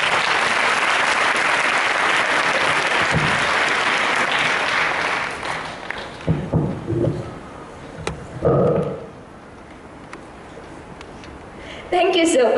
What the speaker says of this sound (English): can you give yourselves a huge round of applause?